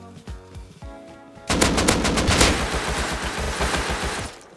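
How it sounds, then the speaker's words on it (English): Gunfire in the survival game Rust. A few quiet shots come first, then a sudden burst of loud automatic fire that keeps rattling in rapid bursts until the end. "what is the guy even shooting at?"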